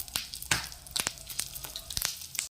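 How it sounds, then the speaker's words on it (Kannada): Oggarane tempering spits and crackles in hot oil for buttermilk sambar (majjige saaru), a dense steady sizzle punctuated by sharp popping bursts, close and alone. "ಇವಾಗ ಇದಕ್ಕೆ ಒಗ್ಗರಣೆ ಹಾಕೋಣ"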